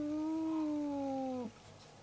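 A single drawn-out cat meow, fairly quiet and steady, lasting about a second and a half before trailing off into faint room noise, with no talk.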